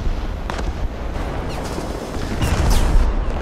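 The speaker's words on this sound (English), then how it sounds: "I'm machine gunning this" Tank machine gun fire in War Thunder on the Eastern Europe map, a dense, loud, continuous rattle of shots blended with heavy battle rumble that swells toward the end.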